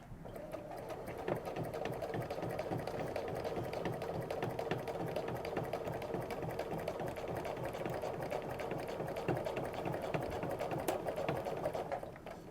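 Sewing machine running steadily while quilting straight ruler-guided lines around and inside a half square triangle, with a continuous rapid mechanical whir and stitching rhythm, close and even, with no voices.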